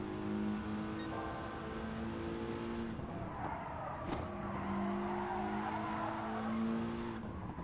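A racing kart in a video game drives on a track: its engine whines steadily in rising and falling pitches, with a few brief tyre skids, and no talk is heard.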